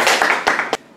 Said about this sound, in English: So a big round of applause for Jane Anderson.